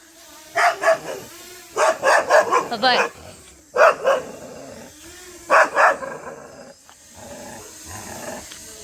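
Several dogs fighting bark and yap in loud bursts, some growling between, while a person speaks nearby.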